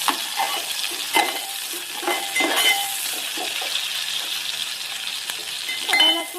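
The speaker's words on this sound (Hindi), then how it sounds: "अब हम अपनी प्याज को गोल्डन ब्राउन होने देंगे।" Onions sizzle in oil in a pan for matar pulao, with a steady frying hiss broken by occasional spoon stirs and light clinks against the cookware.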